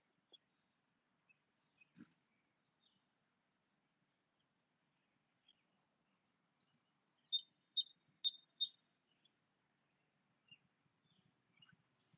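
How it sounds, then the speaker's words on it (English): Birds chirp and twitter outdoors, scattered light calls rising into a busier burst of chatter midway, then thinning out again, fairly faint and distant with no talking. "Enjoying the bird chatter as you roll over to one side."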